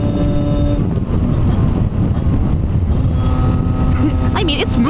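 A stock 50cc moped engine runs near its rev limiter: loud, continuous, high buzzing drone with heavy wind rush over the microphone and some pitch shifts.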